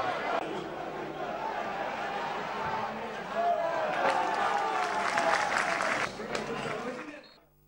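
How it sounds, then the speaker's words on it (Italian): Football stadium crowd applauding a goal, a broad sustained wash of clapping and cheering that swells midway and fades out at the end. "con la maglia biancazzurra per Ciccio Vitale, riceve l'applauso."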